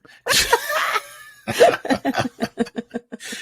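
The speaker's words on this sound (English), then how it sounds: "Cough" A few short bursts of coughing, then a run of quick rhythmic huffs like stifled laughter, close and fairly quiet.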